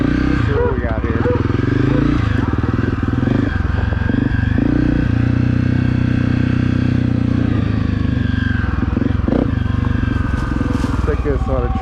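A Honda CRF250F dirt bike fitted with an EJK fuel controller runs loud and close, its engine note steady with small throttle changes and a rattly mechanical clatter.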